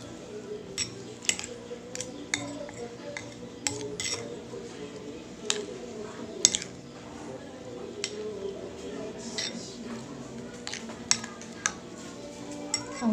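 Grated sayote, carrots and malunggay being stirred in a bowl, giving a steady run of light scraping and clinking utensil taps against the bowl, close by with soft background noise.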